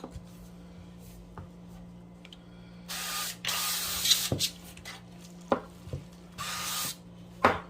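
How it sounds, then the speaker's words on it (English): Several short hissing bursts of olive oil spray onto a pan, two longer ones and a few quick puffs, close up amid light clatter. "I'm going to spray my pan with the olive oil."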